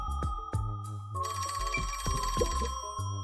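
A telephone rings inside the video game Rain Code, its bell tone cutting in partway through over a steady game music bed, close and fairly loud with no talking.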